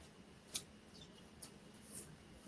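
Scissors snipping paper pieces for an embossed mosaic craft, three faint, quick cuts spaced apart against a quiet background.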